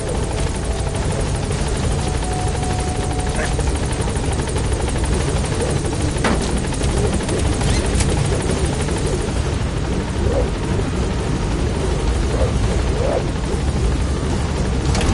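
A helicopter in the video game Metal Gear Solid 5 lifts off, its rotor throbbing in a loud, constant, close drone that fills the whole stretch with no letup.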